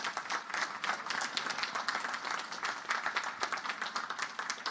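Audience applause at a 2026 Naval Academy graduation ceremony: dense, sustained clapping from a large crowd that holds a steady level throughout, with no voices on top.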